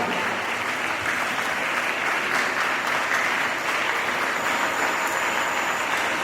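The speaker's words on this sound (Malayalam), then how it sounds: "നമുക്ക് നിറഞ്ഞ കൈയടികളോടെ ഉദ്ഘാടന കർമ്മത്തിൽ പങ്കെടുക്കാം" An audience applauds at a school annual day inauguration at St. Agnes High School, Muttuchira, with dense, sustained clapping from a large crowd held at a steady level throughout.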